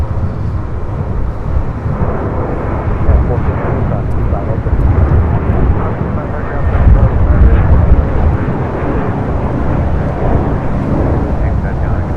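A departing Airbus A321 jet bound for Fort Lauderdale at LAX gives a loud, steady low roar that swells around the middle and holds throughout, with wind buffeting the microphone.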